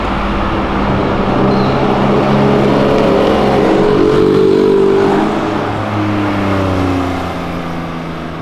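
A car engine roars steadily and loudly nearby, holding a deep, rich drone with slight swells in pitch and a gradual easing toward the end, with no voices over it.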